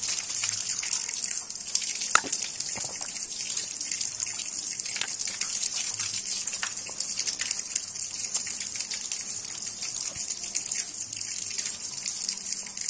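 Clear spring water at the Ciaruteun inscription site runs steadily in a constant bright gushing rush with no pause, close by and fairly loud.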